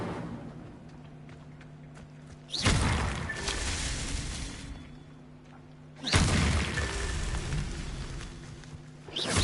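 Two loud fiery bursts roar out a few seconds apart, each swelling and slowly fading, as the Incendio fire spell is cast in Hogwarts Legacy.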